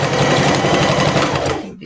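Sewing machine stitching a bodice for a Colonial Williamsburg-style dress, running in a steady fast close-up whir for nearly two seconds before stopping abruptly.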